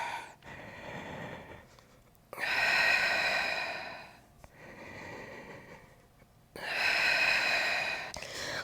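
Long, forceful exhales during a Pilates double leg stretch, two loud breathy bursts separated by quieter inhales, close and alone with no talking.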